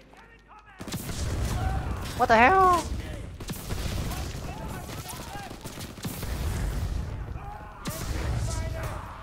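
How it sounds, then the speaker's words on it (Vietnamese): A flamethrower roars and gunfire bursts in Call of Duty WWII, with loud sustained blasts and rattling shots filling the scene while a player's voice exclaims briefly. "Súng phun lửa."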